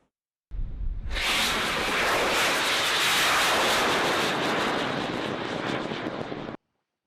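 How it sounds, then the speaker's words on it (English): An experimental rocket launched by university groups at a launch site in Pingdong County, southern Taiwan, roars up suddenly and sustains a loud, broad, rushing blast for about six seconds before cutting off abruptly. "Rockets are flying in southern Taiwan this weekend as university groups test their experimental vehicles"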